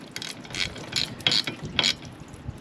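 A ratchet wrench snugs down the rear wiper arm nut on a BMW X5. It gives a quick series of about five close, crisp clicks over faint background noise.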